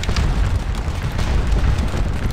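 Artillery cannons fire in the Waterloo battle game Scourge of War, producing a dense, continuous rumble of distant booms with no clear separate shots.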